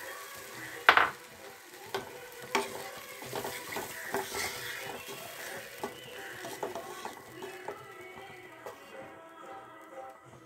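Water poured into hot oil in a pan for a fish curry sets off a sharp hissing burst near the start. Intermittent clicking and scraping from stirring follows as the sizzle gradually quiets toward the end.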